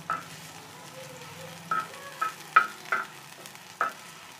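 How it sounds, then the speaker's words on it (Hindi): Sliced onions fry in a pan with a soft sizzle, broken by a few sharp scraping stirs of a spoon at irregular intervals, quiet and close. "प्याज को हम कर रहे हैं फ्राई"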